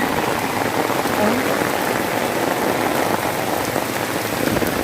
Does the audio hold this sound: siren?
no